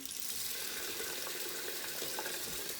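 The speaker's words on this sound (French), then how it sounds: "on ouvre notre robinet" An opened tap running for handwashing, water streaming steadily into a basin, a soft even rush heard close up without speech.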